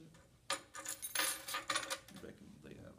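House keys jangle and clink for a couple of seconds close by, a quick series of bright metallic rattles in a quiet room.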